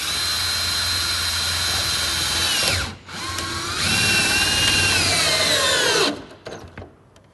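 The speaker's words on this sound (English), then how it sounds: "Continue to fix off the Everbright panel by fixing the same screw on every intersecting purlin, like so." A power drill drives screws through a Danpal Everbright polycarbonate roof panel into the purlins, giving a loud, steady high whine that dips briefly, then spins up again before stopping, followed by a few faint clicks.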